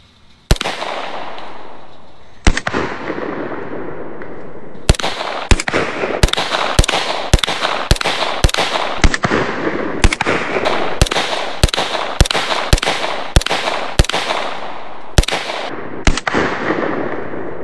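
An SP5 9mm rifle fires at a watermelon outdoors: about seventeen loud, sharp shots, first spaced out, then in a quick irregular string, each with a short echoing tail.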